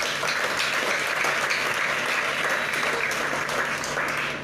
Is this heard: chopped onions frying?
no